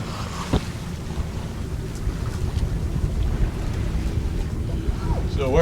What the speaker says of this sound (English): So we're under sail now.